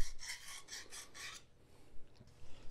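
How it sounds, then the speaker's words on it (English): Emery cloth rubbing a copper water pipe, heard up close as five quick, rhythmic rasping strokes that then stop. "emery cloth really is just a really, really fine sandpaper made from metal"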